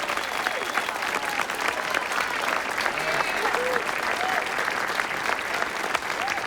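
An audience at a civic ceremony welcomes the mayor with sustained, dense applause from a large crowd, heard steadily throughout at an even level, with faint voices beneath.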